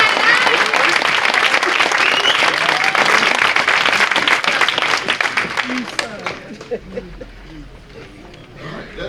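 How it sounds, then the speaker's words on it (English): A crowd at a semi-pro baseball hall of fame induction ceremony claps loudly and steadily, then the applause thins into scattered claps and fades over the last few seconds, with voices in the room. "give yourself a big round of applause."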